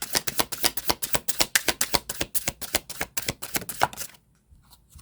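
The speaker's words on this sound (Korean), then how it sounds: "조언의 카드 2장만 뽑아서 보도록 하겠습니다" Tarot cards shuffled by hand, a rapid run of about twenty crisp papery riffling snaps in quick rhythm, close and fairly quiet, ending in near silence.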